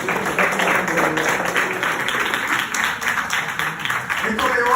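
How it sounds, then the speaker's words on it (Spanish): Congregation in a church clapping for God: a continuous patter of applause from many hands, fairly steady in loudness, with voices mixed in among the clapping. "Démosle un aplauso a Dios, gloria a Dios."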